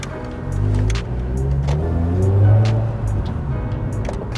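Mazda RX8 R3 on a test drive after a Brembo brake conversion, its rotary engine revving up through the gears from inside the car, loud and close with rising and falling engine tones.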